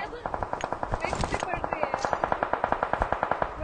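Automatic gunfire in PUBG Mobile rattles out as a fast, steady burst of evenly spaced loud shots for the whole stretch, close and prominent.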